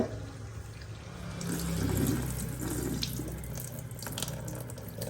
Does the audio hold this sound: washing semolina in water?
yes